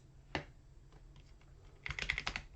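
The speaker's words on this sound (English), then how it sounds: "let's do a little bit of typing here" Typing on a computer keyboard during a biology lecture on membrane potential: a sharp isolated keystroke, a few scattered soft taps, then a quick burst of rapid clicking near the end, close and fairly quiet.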